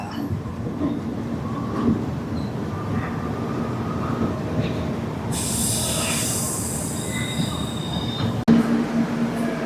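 A passenger train slowing into Rajahmundry station on a Visakhapatnam to Tirupati run, with a rumbling carriage drone, a loud high wheel squeal partway through and a sharp clank near the end.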